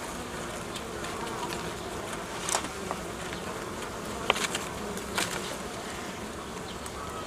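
A honeybee swarm drones continuously at a nucleus hive, a close, dense buzz with a few louder passes as bees fly near.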